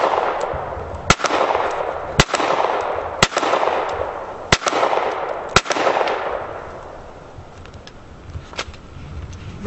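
A Colt 1911 pistol fitted with a Mechtech upper fires at shoot-and-see targets, five sharp loud shots at roughly one-second intervals, each followed by a decaying echo, then quieter outdoor ambience with faint distant pops.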